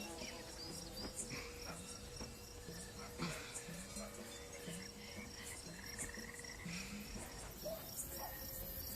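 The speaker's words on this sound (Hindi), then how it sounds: "झिंगुर" Crickets chirp in a faint, steady night chorus with repeated high trills, joined by a buzzing insect drone and occasional low croaks, quiet and distant with no talking.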